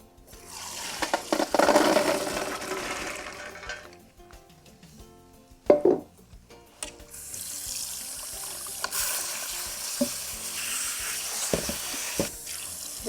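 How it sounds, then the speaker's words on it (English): Running tap water splashes steadily into a kitchen sink as soaked red beans are rinsed, with a louder clatter partway through and continuous washing noise at moderate volume. "Just going to go ahead and rinse our soaked beans."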